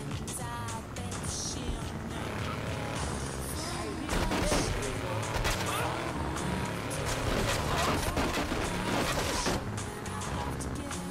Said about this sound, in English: Oh god, people shooting.